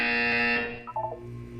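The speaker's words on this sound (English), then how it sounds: "You will hear a buzzer." A buzzer in the Portal 2 video game sounds as a loud, harmonic electronic tone, then gives way to a few quick chirping blips over a low steady hum.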